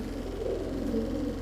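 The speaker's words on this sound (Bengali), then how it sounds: "ব্রোঞ্জ চিলা চুইঠাল একটা নর কবুতর" A bronze Chila Chuithal male pigeon coos steadily and close by, a low throaty rolling murmur that carries on without a break.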